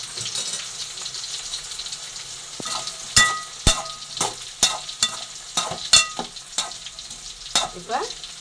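Bitter gourd and tomato sizzle frying in a pan while a utensil stirs and scrapes against the metal in a series of sharp clinks, close by with no talking.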